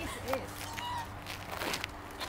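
A goose honks a few times in brief, nasal bursts at moderate distance, with faint rustling and movement around it in a backyard near a trampoline.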